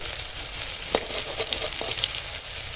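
Fenugreek seeds sizzle in hot oil in a pan where eggplant has just been fried, a steady close frying hiss with a few sharper crackles and pops.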